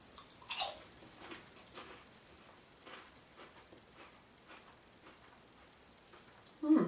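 Quiet, close-up crunching of caramel corn comes in a few irregular bites, soft and crisp, with a slightly louder crunch near the end.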